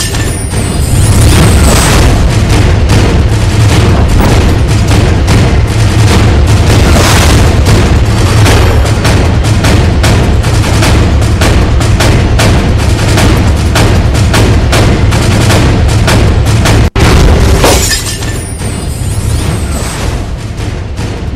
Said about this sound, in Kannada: ನೋಡೆ ನೋಡ್ತಿದ್ದಂತೆ ದೊಡ್ಡ ಮಟ್ಟದಲ್ಲಿ ಸ್ಫೋಟ ಆಗಿರುವಂಥದ್ದು